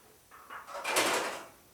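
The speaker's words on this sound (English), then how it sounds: "Now that sound was the door rubbing on this rod up here" A car door on a 1940 Ford coupe-inspired custom build with a hand-shaped door skin rubs against a rod as it swings closed: a short, soft scraping swish that rises and fades, close and fairly quiet.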